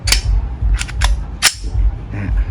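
A Blow C75 CZ blank pistol fires several sharp, loud reports at close range in quick succession, with brief pauses between shots.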